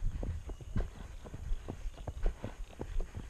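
A horse's hooves clip-clop in a steady trotting rhythm on an equestrian schooling ride, heard close and moderately loud from the rider's position, with no talk over them.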